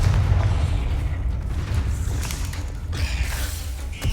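A Confringo spell explosion in the Hogwarts Legacy video game, a deep rumbling boom with creaking, debris-like texture amid busy combat effects, loud and close.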